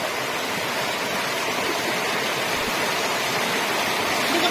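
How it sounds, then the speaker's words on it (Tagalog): Water gushes steadily from a tree trunk outdoors, a continuous broad rushing splash like a small waterfall, close and fairly loud throughout with no voices. "So iba talaga guys pag may puno, maraming tubig na lumalabas."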